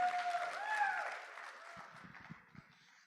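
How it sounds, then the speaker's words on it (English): Applause from an audience at a crypto expo event, a fading wash of clapping and crowd noise that tapers off into a few scattered claps and thumps, with faint whistling near the start. "Let's have a big round of applause for Crypto Expo Asia for organizing this immaculate event."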